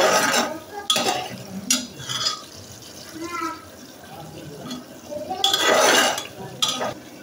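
Metal spoon scraping and clanking around a pot of meat being browned, in uneven bursts, with a muffled voice speaking in between.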